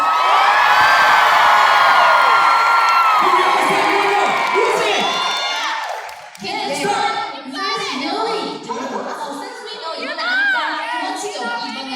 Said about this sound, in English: let's give them your energy one more time. Round of applause.